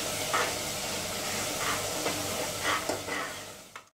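Coriander powder being stirred into a black-eyed pea curry in a pan, a steady close sizzle with soft scraping strokes throughout, ending abruptly.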